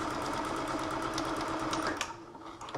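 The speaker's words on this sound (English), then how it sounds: "you're gonna just sew it to about half the side" A sewing machine stitches a fabric face mask cover, its fast, even needle whir running continuously up close before it briefly eases near the end.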